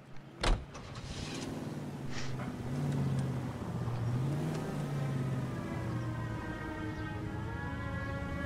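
A car driven in the video game L.A. Noire gives a steady, droning engine hum that rises and falls slightly, with a sharp knock near the start and no talk.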